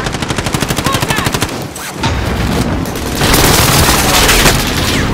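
Enemy precision airstrike in a battle royale video game: a rapid run of sharp, evenly spaced blasts like heavy gunfire, then a dense, loud roll of overlapping explosions that swells and holds to the end.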